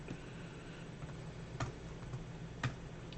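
Faint, sparse keystrokes on a computer keyboard: a few soft clicks spaced irregularly over a quiet background hum.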